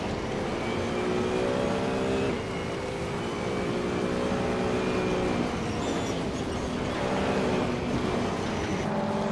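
Racing car engines in a racing video game drone and whine continuously, several engine notes rising and shifting in pitch together, loud and steady with no talk.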